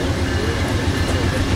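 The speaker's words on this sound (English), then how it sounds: "Oh, that's the train." Amtrak P-42 diesel locomotive pulling into a station, a loud, steady low rumble with rhythmic throbbing throughout, close by and with no talk over it.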